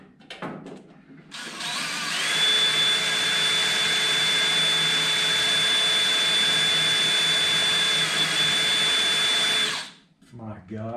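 A power drill with a dull bit grinds into the lid of a custom battery box for a 1955–1956 Chevy, giving a loud, steady whine that holds for about eight seconds before stopping, with a brief voice at the end.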